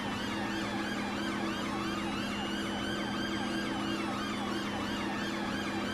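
Ambulance siren in the video game GTA V during a London police drive, a continuous wailing and yelping siren sweeping up and down over a steady engine hum, fairly close and unbroken by talk.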